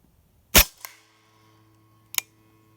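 A Hatsan Blitz .30 caliber PCP air rifle fires one sharp, loud, close shot, followed by a brief echo and a quieter metallic click a moment later.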